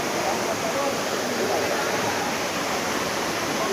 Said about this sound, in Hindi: पानी का झरना ऐसे गिर रहा हो